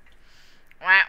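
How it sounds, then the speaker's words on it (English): One short, nasal duck quack from the video game Fortnite sounds out loud and close after a stretch of near silence, amid game-session chatter. "I'm cheering you on with some quacks."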